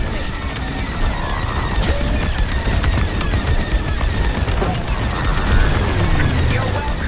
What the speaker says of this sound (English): I'm under fire! I think they're shooting at me.